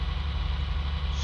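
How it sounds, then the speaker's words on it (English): Four-wheel-drive tractor engine in Farming Simulator 19, a steady low droning idle-like rumble with constant vibration, close and continuous throughout. "This tractor is four-wheel drive, so, and the diffs are locked."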